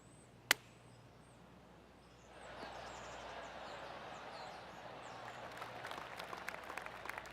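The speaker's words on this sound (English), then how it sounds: "Oh, golf clap." A golf tournament gallery beside the 12th hole gives a polite golf clap: one sharp click first, then a quiet stretch, then a steady patter of many hands clapping at a distance, holding even and restrained.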